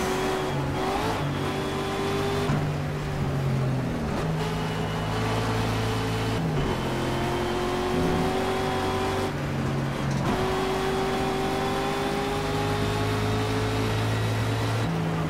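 Race car engine in the Project Cars racing game, a loud whining engine that climbs through the revs and drops sharply at each gear shift, repeating in several shift cycles.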